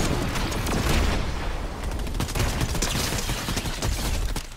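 Rapid bursts of gunfire from a new assault rifle in Fortnite, loud and sustained across the whole stretch, dense volleys with no pause and no talk over them.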